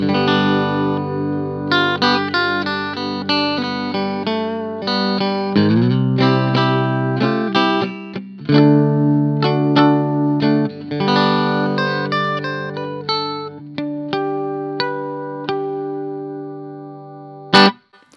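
Clean electric guitar in open G tuning through a solid-state amp picks out ringing open-chord melodies with plucked notes and let-ring strums, steady and moderately loud with no voices.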